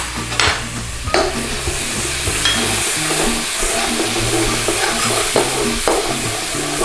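Garlic and methi (fenugreek) sizzle steadily in a hot pan while a spoon stirs them, making repeated scraping strokes against the pan over the constant frying hiss, close up and with no talking.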